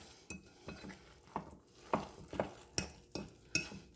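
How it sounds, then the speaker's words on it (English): A spoon stirs breadcrumbs into a meatless casserole mixture in a bowl, giving about eight soft, regular scraping knocks close by with no talking. "all we got to do is add our breadcrumbs. We're going to mix it up good."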